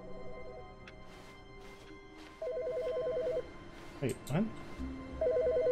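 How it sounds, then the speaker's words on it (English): Telephone in the video game The Stanley Parable: Ultra Deluxe rings in repeated electronic trill bursts with pauses between them, fairly clear, while someone talks over parts of it. "Phone call."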